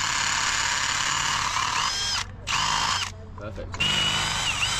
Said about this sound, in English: You need to drill them out to 14 mil.